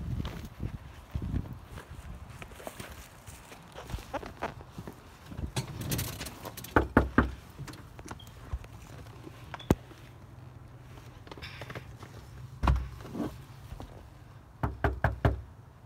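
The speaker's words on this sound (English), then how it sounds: "So, I can go knock on these door." Knocking on a house door, several sharp raps in short clustered bursts close by, with footsteps and light shuffling in between.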